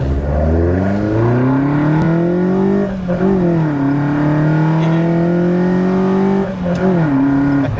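An engine-swapped Mk2 Volkswagen Golf GTI revs hard and accelerates through the gears, its loud rising drone dipping briefly at each shift before climbing again.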